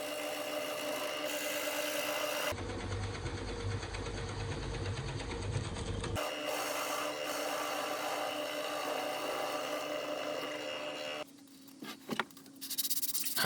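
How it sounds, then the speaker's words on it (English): A drill press bores into wood for a handmade pen holder, a steady loud mechanical whir with grinding lasting a few seconds, set between quieter workshop hum and scattered handling clatter at the end. "And then back over to the drill press."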